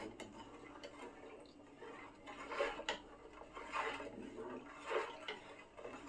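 A spoon clinks and scrapes against a pot in repeated stirring strokes, stirring sugar into homemade blackcurrant and redcurrant wine, quiet and close, with faint liquid sloshing.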